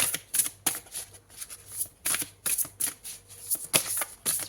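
Oracle cards being shuffled by hand in a quiet room, a run of soft papery riffles and flicks that come in uneven bursts, close up and fairly faint, with no voices.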